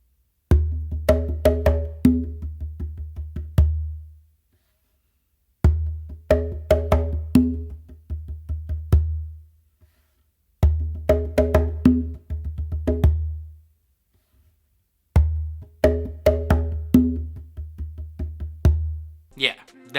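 Bingba drum played in a bomba/funk pattern of ghost notes, four repeated phrases of quick soft taps building over a deep resonant boom, each phrase ending in a pause, close and alone.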